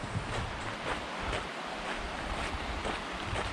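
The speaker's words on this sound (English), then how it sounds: "So this is Bright Angel Creek." Bright Angel Creek runs along the North Kaibab Trail in the Grand Canyon, its water rushing in a steady, dense hiss with no gaps, fairly close and alone.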